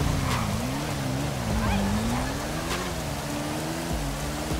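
Rain falls in GTA 5 as a constant hiss, with a custom motorcycle's engine droning and wavering in pitch underneath throughout.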